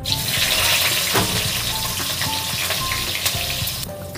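Eggplant pieces frying in hot oil in a kadai give a loud, steady sizzle and crackle that runs throughout, with a few sharp pops along the way.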